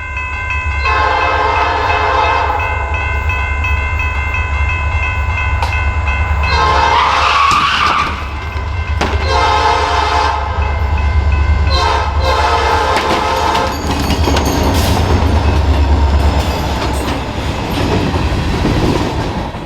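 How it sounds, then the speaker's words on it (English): A Norfolk Southern freight train, B25, races west through a grade crossing on the Amtrak Michigan line, loud and close, sounding long blasts on its horn over the constant rumble and clatter of passing cars. "we start our day watching NS Freight B25 race west on the Amtrak Michigan line"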